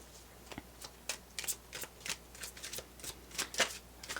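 Tarot cards being shuffled up close, in quick, uneven bursts of papery riffling and flicking over about four seconds, with no talking.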